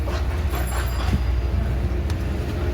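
Inside a car with power steering, the engine speeds up as the driver shifts into second gear during a driving lesson, heard as a steady close low rumble with faint road noise and no talking.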